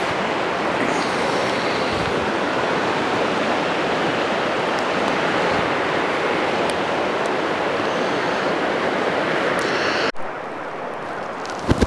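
Water rushing steadily down a quiet mountain creek holding rainbow trout, a dense, continuous broadband wash heard up close for about ten seconds before it abruptly cuts away to a slightly different, quieter stretch.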